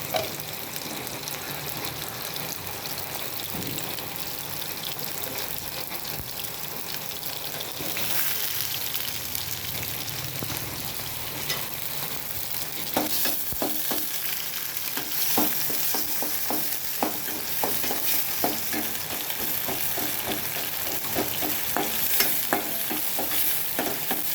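Onions frying in a little oil, stirred steadily, giving a continuous hiss with repeated scraping clicks of the spoon that grow busier and louder in the second half; no talking.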